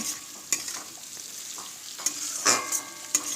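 Cabbage being stir-fried with onion for chowmein over a medium gas flame, a soft sizzle punctuated by sharp scraping and tossing strokes against the pan, close and without talk.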